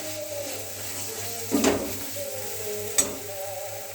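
Spice masala sizzles and fries in oil in a pan, a steady crackling hiss broken by two short louder stirring scrapes.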